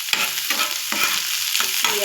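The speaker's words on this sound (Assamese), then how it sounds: "পিঁয়াজ নহৰু শুকান জলকীয়া কেঁচা জলকীয়া ধুনীয়াকৈ ভাজি ল'ম" Onion, garlic, dried and fresh chillies, ginger and coriander fry in a little oil, a close sizzle broken by several regular scraping stirs of a spatula.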